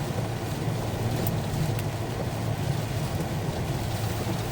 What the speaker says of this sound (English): It is pouring with rain.